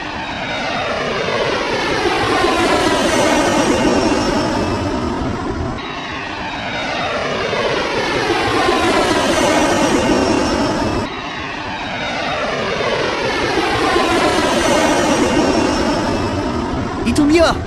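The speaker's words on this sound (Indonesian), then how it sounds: "Kita harus pakai skuadron jet tempur." Fighter jet squadron flying past in the Sakura School Simulator game, a loud, steady engine roar that swells and fades in three long overlapping passes, alone with no talk.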